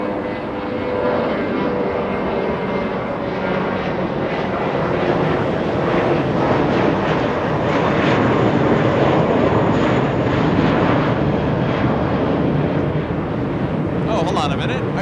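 A Boeing 787 Dreamliner taxis at Los Angeles International Airport, a steady, fairly loud jet engine drone running throughout, with talk seemingly mixed in beneath it.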